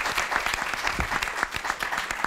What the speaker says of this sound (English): Well, applause to all of you.